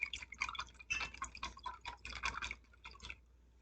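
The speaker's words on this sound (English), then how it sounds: "I need to whisk up my eggs" Two eggs are whisked briskly in a bowl, making rapid, rhythmic wet clicking and sloshing taps at close range that ease off near the end, with no talk.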